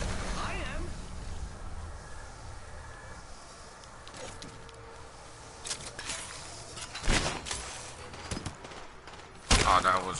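Video game shootout gunfire: scattered distant shots and bursts over a quiet ambient bed, with a couple of louder cracks near the end and a voice talking.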